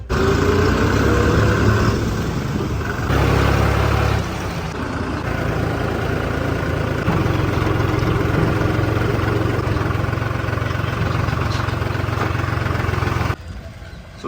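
Loud, continuous diesel rumble from tractors running nearby on a river embankment in Punjab during flooding, steady throughout with slight shifts in tone.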